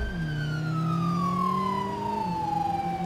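A police car in the driving game BeamNG.drive pulls out with its siren wailing in a falling, sweeping tone over a low engine drone, heard nearby and without any voices.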